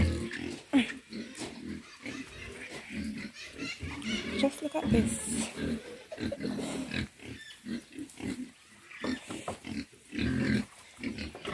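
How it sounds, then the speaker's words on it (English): Pigs on a Jamaican farm grunt and squeal in their pen, close and busy throughout, with a person speaking over the animal noise. "Trust me, when I tell you that pigs are disgusting, they are really disgusting."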